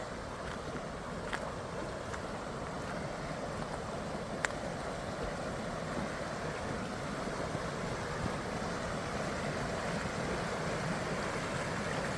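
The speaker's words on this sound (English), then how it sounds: "Creek runs back up this draw." A creek runs down a draw near Whittier, Alaska, giving a steady, faint broadband rush of flowing water with no voices, with a few tiny clicks and ticks.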